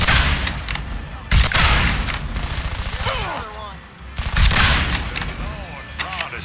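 Gunfire from the video game Mafia 3: loud repeated bursts and sharp shots crack through an ongoing firefight, with voices shouting between them.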